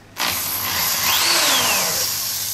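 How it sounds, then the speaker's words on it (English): A power drill starts abruptly and whines steadily while pre-drilling into the base of a concrete countertop mold, close and loud, with a slight pitch sweep as it bites in. "the next thing I'm going to do is pre-drill this first one, and I'm going to drill into the base of the mold"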